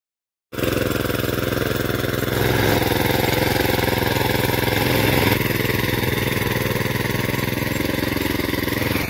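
A tractor engine runs steadily in a pomegranate orchard, a loud, continuous mechanical drone that holds level for the whole stretch after a brief silent start, with no voices over it.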